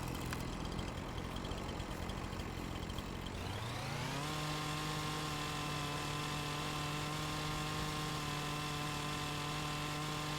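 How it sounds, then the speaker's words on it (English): A chainsaw in the Farming Simulator video game starts up, its pitch sweeping upward for a moment before settling into a steady, buzzing engine drone that runs continuously and loudly, with no talking. "Let's get the chainsaw out."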